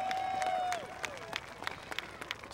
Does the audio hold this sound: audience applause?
yes